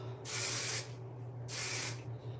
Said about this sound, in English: So let me spray this.